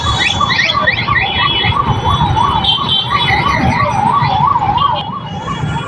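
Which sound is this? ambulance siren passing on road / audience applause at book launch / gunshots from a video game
ambulance siren passing on road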